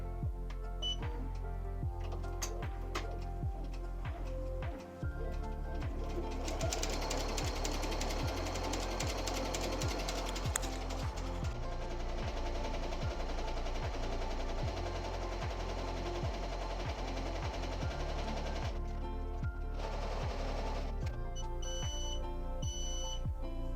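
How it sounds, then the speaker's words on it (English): An embroidery machine stitching a design onto baby jeans gives a loud, fast rhythmic needle hammering that runs on continuously, with brief changes in pace and a short pause partway through. "I'm going to go ahead and hit start, and we're going to let her embroider"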